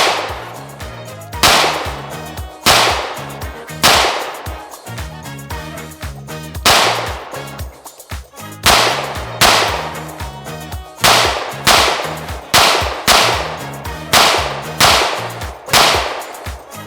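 Tisas PX-9 Duty Comp compensated 9mm pistol fired at a range: sharp, loud gunshots in a steady string of about fifteen rounds, some in quick pairs, with no talking.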